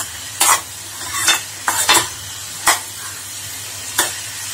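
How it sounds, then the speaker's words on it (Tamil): Carrot and beans sautéing with onion in oil, a steady close sizzle broken by several distinct scraping stirs of a spatula against the pan, with no voices. "இந்த வெங்காயத்தோடு இந்த எண்ணெயில் கொஞ்சம் வதக்குனா நம்ம காய் கொஞ்சம் வதங்கிடும்"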